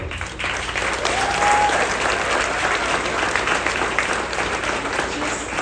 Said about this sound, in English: you deserve so much more applause for the work that you do.